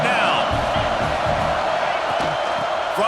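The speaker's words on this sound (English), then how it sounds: "This crowd knows this defense needs them right now." A stadium crowd roars steadily in a college football video game during a defensive stand, a loud continuous wall of cheering with a commentator talking over it.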